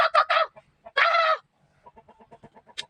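A chicken gives a few loud close clucks and a squawk, followed by a run of soft, quick clucking that fades.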